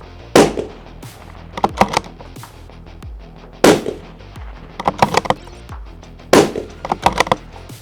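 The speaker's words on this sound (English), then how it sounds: "I'm going for 10 shots on target" Firearm shots fired at a target on a shooting range, a series of loud, sharp cracks arriving in short clusters with brief pauses between groups, close and dominant.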